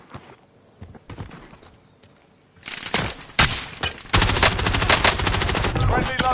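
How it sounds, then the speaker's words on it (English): Sustained video game gunfire in Call of Duty Warzone as the player gets hit, with sparse shots early, then a dense, loud burst of rapid automatic fire and impacts filling the second half. "Oh shit, I'm getting lit up. Yeah, UAV. Taking direct fire."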